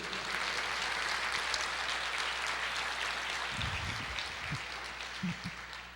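A church congregation applauds during a sermon on the Great Commission, a steady wash of clapping heard from a distance, fairly faint, with a couple of low thumps near the end.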